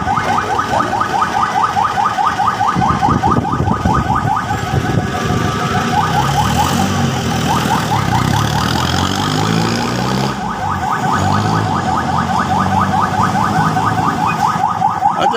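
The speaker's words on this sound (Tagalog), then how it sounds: "Ambulansya yan, oh." An ambulance siren wails continuously in a repeating warble, loud and close, passing through stuck traffic, with engine rumble and traffic noise underneath throughout.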